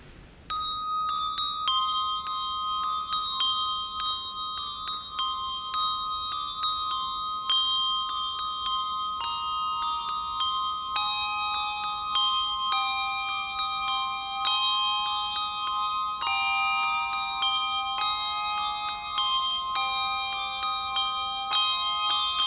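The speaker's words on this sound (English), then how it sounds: "Here is Risen Savior Lutheran Church's Bell Choir with Carol of the Bells." A Lutheran church handbell choir rings Carol of the Bells, with clear, bright strikes in a steady repeating pattern that stays loud and continuous throughout, and no voices.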